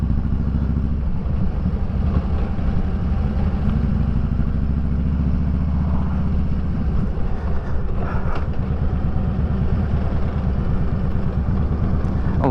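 A line of motorcycles at a Blessing of the Bikes event rumbles steadily close behind, a continuous loud low engine drone with clattering, idling character throughout.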